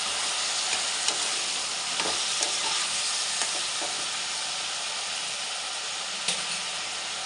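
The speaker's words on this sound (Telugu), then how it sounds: "వంకాయ ముక్కలు వేసేసుకుందాం. వీటిని కూడా మగ్గించుకుందాం." Brinjal pieces frying in a pan for a potato and brinjal curry, with a steady close sizzle and occasional clinks and scrapes as they are stirred.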